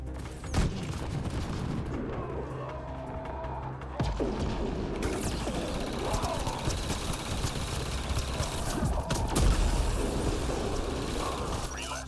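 Dense bursts of gunfire and crashing impacts crackle loudly and near throughout a Mass Effect Andromeda multiplayer zombie match, with an abrupt cut partway through and little talk.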